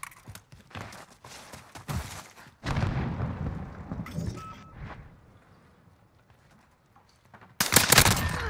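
Hip-fire gunshots in the Modern Warfare 2019 video game, with a burst of shots early on, a dense run of firing near the end, and quieter movement noises between them.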